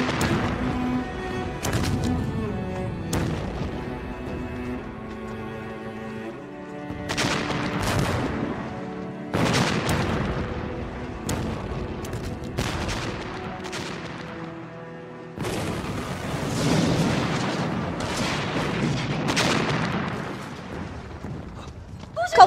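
Cannon fire in a historical costume drama, with repeated booming blasts and bursts of gunfire-like reports spread through the scene over a busy, full soundtrack.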